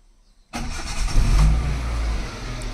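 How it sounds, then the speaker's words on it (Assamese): A second-hand car with 63,072 km on it, at a used car market in Jorhat, cranks after a moment of silence and catches, then settles into a steady, smooth idle close by, with no talk. "আৰু মই ষ্টাৰ্ট কৰি আপোনাক দেখাই দিছোঁ,"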